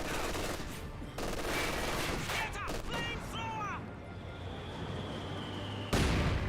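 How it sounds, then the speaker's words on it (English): A Company of Heroes 2 battle with a mortar striking a squad of flamethrower engineers, surrounded by dense overlapping gunfire and impact bursts, a few sharp whistling tones and a sudden loud blast near the end. "Good mortar hit there on the Flamer Engineers"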